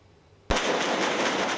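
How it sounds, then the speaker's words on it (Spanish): A sharp, loud blast from street clashes near the Palace of Justice in Beirut bursts in after a quiet moment, followed by sustained harsh, crackling noise from gunfire and explosions. "disparos, explosiones e incendios tuvieran lugar cerca del Palacio de Justicia"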